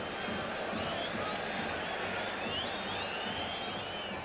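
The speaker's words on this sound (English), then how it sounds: "can hear the crowd reacting at the Bilbao players to try and get possession" A steady roar from a football stadium crowd in Bilbao during Athletic Bilbao v Liverpool, a dense, continuous wash of distant massed voices with faint whistles rising above it throughout.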